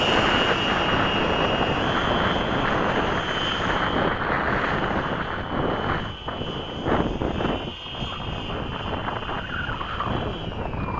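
An RC model airplane with V-tail mixing, flying after a long layoff, gives a steady, loud engine drone that holds for the full stretch and dips briefly near the end, with no talk.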